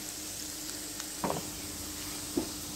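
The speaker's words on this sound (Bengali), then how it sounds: "এখন আমি এগুলো হালকা ব্রাউন কালার করে ভেজে নিব।" Garlic and green chilies frying in oil over low heat until light brown, a soft steady sizzle with a few brief stirring clinks, close and quiet with no talking.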